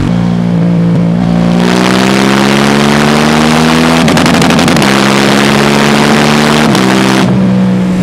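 KTM 790 Duke parallel-twin motorcycle engine revving hard and climbing in pitch, loud and close, with choppy stutters where it hits the rev limiter before settling back.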